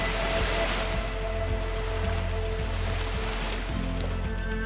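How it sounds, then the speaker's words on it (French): Rain falling in the Amazon jungle, a loud steady hiss of drops on foliage with no voices. "La pluie, c'est pas grave, faut faire avec."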